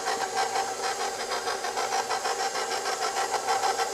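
A steady motorized whir with a slight pulsing rhythm, like an electric mixer running at low speed, continuous and fairly close.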